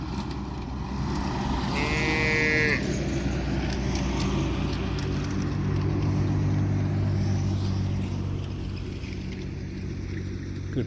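A cow gives a single drawn-out moo, lasting about a second, that rises out of steady traffic and engine rumble in Assam, with faint talk in the background.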